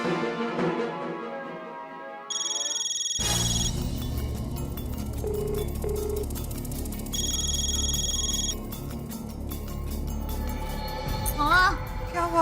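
A phone ringback tone repeats in a steady pattern over a constant background hum, ringing on with no answer; a short beep sounds near the end.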